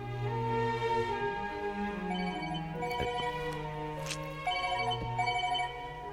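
A phone rings with a melodic, tonal ringtone in a scene from the 2013 Hindi film Bullet Raja, playing steadily and fairly loud for about six seconds with no talking over it.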